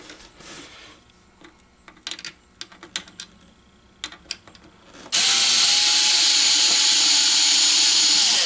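A power tool spins up loudly to remove a nylock nut on an American Changer coin hopper, preceded by several light clicks and taps while fitting the tool, then a sustained high whirring.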